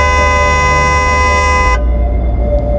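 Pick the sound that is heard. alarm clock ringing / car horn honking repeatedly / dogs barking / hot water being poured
car horn honking repeatedly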